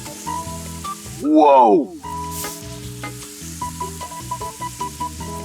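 A toy volcano chemical reaction erupts after a reagent is added, giving one loud surging fizz that lasts under a second over steady background music, followed by an excited voice.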